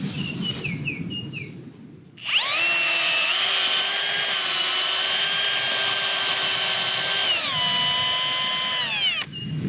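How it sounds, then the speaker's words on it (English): A power drill bores deep holes into garden soil for tomato transplants, its whining motor starting abruptly and running loud and steady for about five seconds before winding down, with faint birdsong around it. "we're drilling the holes like as deep as we can so that she can plant them all the way up"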